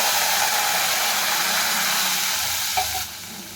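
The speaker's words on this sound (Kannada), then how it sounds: "ಹಾಲು ಹಾಕ್ಕೊತಾ ಇದ್ದೀನಿ." Milk hits hot ghee in a pan with a loud, steady hiss and sizzle that eases slightly near the end.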